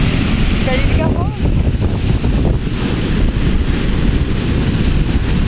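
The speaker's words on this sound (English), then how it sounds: "Look at these waves, they're huge." Ocean waves surge and break off Hawaii while strong wind buffets the microphone in a steady roar, with a brief voice speaking over the rushing surf.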